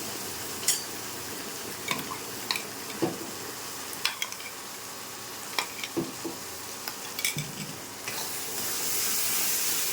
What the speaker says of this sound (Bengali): এটাকে কষিয়ে দেবো।